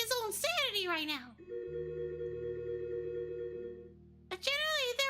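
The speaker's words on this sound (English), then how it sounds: "The phone rang noisily downstairs." A telephone rings in the Higurashi visual novel game, a steady electronic tone sustained for about three seconds, with a voice talking just before and after it.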